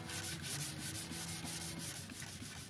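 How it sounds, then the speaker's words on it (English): Rhythmic scratchy rubbing of 220-grit sandpaper smoothing wood filler on a wooden plant stand, repeated back-and-forth strokes close up, quiet and steady with no speech. "I'm going to smooth out the wood filler using 220 grit sandpaper"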